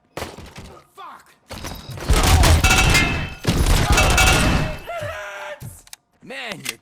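Gunfire rings out in Robocop: Rogue City, with bursts of shots, thuds and impacts in a loud, dense stretch mid-clip, and short voice sounds in between.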